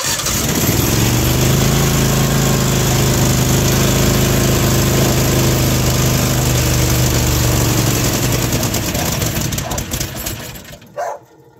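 A Predator engine swapped into a Bobcat runs loud and steady close by, its low throbbing drone holding for several seconds before sputtering and cutting out near the end.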